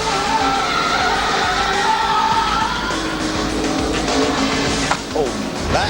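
A stock car in a 2005 Busch Series race at New Hampshire spins off turn four, tires squealing in a rising skid under the constant roar of engines and an excited commentator.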